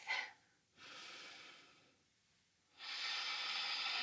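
Slow, audible breaths during a yoga flow in a dragon lunge: a quick sharp intake, then long steady exhales of airy hiss separated by quiet pauses, close and fairly loud.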